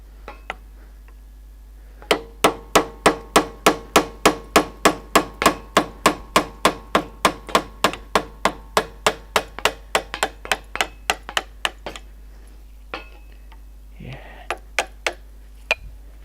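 Hammering on the shock absorber of a Nissan Terrano, a long run of about thirty evenly spaced, sharp metallic blows in a brisk steady rhythm, close and loud, then a few scattered strikes after a pause.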